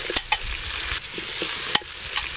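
Boiled chicken pieces with ginger-garlic paste being stirred in a pan, with a steady frying hiss and a handful of sharp spatula taps and scrapes close by.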